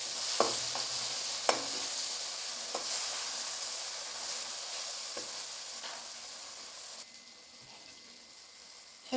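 Chopped tomatoes fry with onion, ginger and garlic paste, salt and turmeric in a pan for an Assamese dish, a soft continuous sizzle punctuated by occasional light stirring taps, close and without talk.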